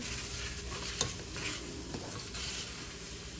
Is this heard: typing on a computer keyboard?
no